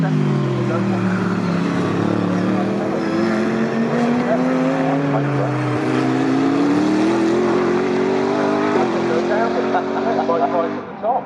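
GT race cars at Snetterton circuit during a GT Cup Championship race, engines droning loudly and rising in pitch as they pass, continuous under race commentary.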